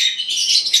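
A pair of young African lovebird chicks give a brief burst of high, thin chirps, close and fairly loud, lasting under a second.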